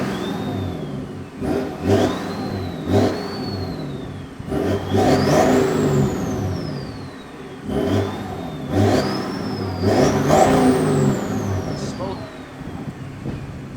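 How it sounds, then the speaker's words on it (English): BMW 335d diesel with a downpipe and backbox delete, revved in short blips that rise and fall, with a whistling turbo-like whine sweeping up on each rev. Moderately close, and there is occasional background noise between the revs. "In case you're wondering what a 335D will sound like with a downpipe, with backbox delete, there you go."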